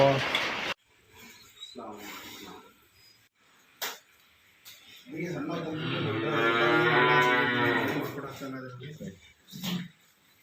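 A cow at a dairy farm in Shivamogga, Karnataka, lets out a long, low moo lasting a few seconds, close by, with scattered voices and farmyard knocks before and after.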